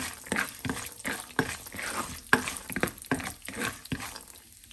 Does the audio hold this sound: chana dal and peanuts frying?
yes